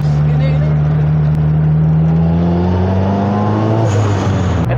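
Turbocharged Honda Civic Estilo accelerating hard from inside the car, a loud continuous engine drone climbing steadily in pitch before the throttle lifts near the end.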